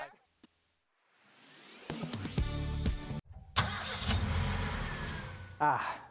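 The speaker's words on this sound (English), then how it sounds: "The sound of a car starting." A car engine cranks and catches at close range, turning over in stuttering bursts after a quiet start, then running loud with a brief gap and a final surge.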